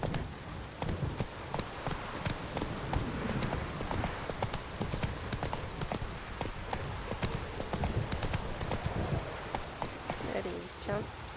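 Rapid, steady clip-clop of a galloping horse, Roach, from the video game Witcher 3, with a brief whinny near the end; a player's voice talks over parts of it.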